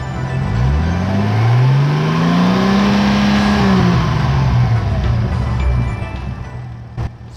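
A Datsun 280ZX engine revs up, holds high for a few seconds, then winds back down, loud and close, during fuel pressure testing.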